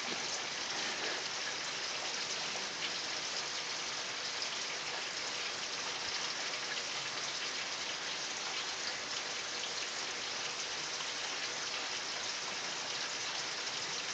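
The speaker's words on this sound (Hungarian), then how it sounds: "Szépen csendben esik az eső." Steady, quiet rain falling during an October thunderstorm, a continuous soft hiss of drops on surfaces with no talk, even and unbroken throughout.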